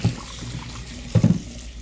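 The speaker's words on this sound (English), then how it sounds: "So first I'm going to wash those potatoes." Potatoes are washed under a running kitchen tap, giving a soft trickle of water with a couple of brief splashy knocks as they are handled.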